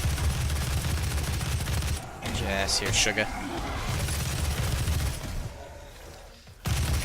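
Dense, rapid gunfire and booming explosions from the video game DOOM pound almost continuously, with a short lull of mixed game effects in the middle, while someone speaks briefly over the din.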